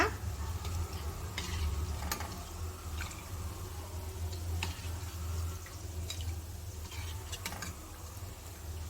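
Gulab jamun balls fry in hot oil with a steady close sizzle and soft bubbling crackle, sharp little pops and spatters breaking through now and then.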